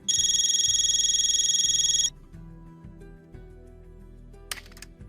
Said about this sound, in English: Pick up the phone with your wrong hand. Answer the call within 3 rings.